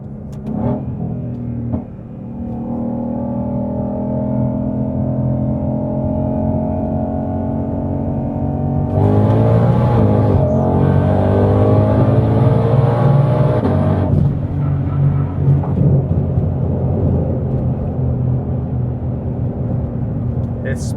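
A 2022 Ford Mustang GT500 Heritage Edition Track Pack accelerates hard from 60 mph, its loud engine note climbing steadily in pitch through the gears with a brief shift, heard from inside the car.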